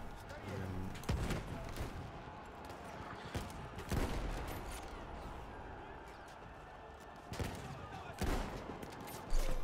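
Battlefield 1 multiplayer on the Volga map: several sharp gunshots ring out at irregular intervals over a busy battlefield background, with some voice activity mixed in.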